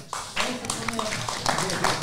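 Scattered clapping from a small audience at a conference talk on secularism, a brief patter of hands heard over and between a man's speech.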